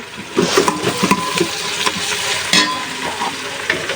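Meat with fried onions and spices being stirred in a pan, with steady frying sizzle and repeated scraping, clattering strokes of a spoon up close.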